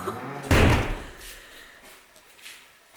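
A solid door of a wind shelter swings shut with one loud, close thud, followed by faint room noise and brief murmuring.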